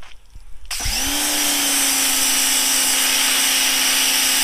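A 1600 PSI pressure washer starts up after a brief quiet moment and sprays baseball pants, settling into a loud, steady hiss and motor whine that holds unbroken to the end.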